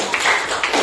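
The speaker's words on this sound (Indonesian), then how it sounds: "Ya, tepuk tangan dong." Students in a classroom give a quick burst of hand clapping, a short loud patter of claps lasting under a second.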